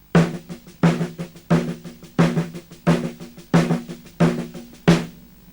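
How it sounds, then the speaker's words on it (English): A paradiddle played on a lone snare drum, eight crisp evenly spaced groups of sharp stick strokes with regular accents, close and clear with no talking. "the lovely paradiddle"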